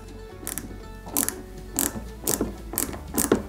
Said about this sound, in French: je vais mettre la deuxième longue vis de l'autre côté, elle vient ici